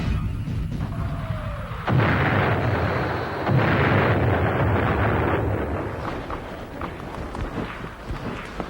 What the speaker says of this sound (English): automatic rifle fire, followed by a huge artillery shell that thumped the earth much too close for comfort